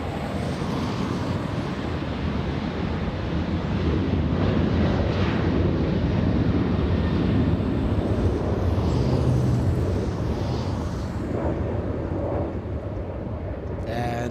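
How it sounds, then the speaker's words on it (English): An Aeromexico Boeing 787 Dreamliner flies near LAX airport, its broad steady jet roar loud and continuous, mixed with wind rumble on the microphone. "I think we'll stay with 787 Aeromexico Dreamliner."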